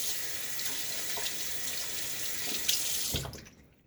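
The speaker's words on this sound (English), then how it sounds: "Rinse my hand off." Tap water runs steadily into a sink as a hand is rinsed of shaving lather, a close, even splashing hiss that cuts off near the end.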